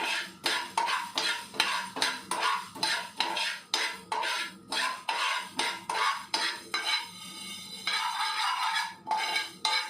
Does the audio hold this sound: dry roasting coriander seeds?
yes